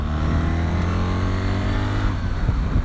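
A BMW R 1300 GS Trophy motorcycle accelerates hard up a motorway slip road, its engine droning loud and steady with the pitch gradually climbing, heard close with no talking.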